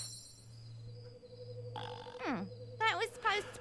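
A short gurgling belch emote from the video game Fable Anniversary rises and falls in pitch over a steady background hum, followed by brief voiced sounds.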